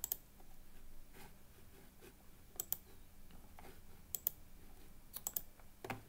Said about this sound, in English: let's just click around the course a little bit while that comes through